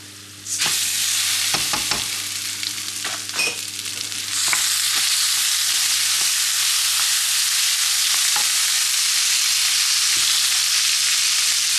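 Rice fries in butter in a pan, starting with a few stirring scrapes before a loud, steady sizzle rises and continues close up, punctuated by occasional clinks of the spoon.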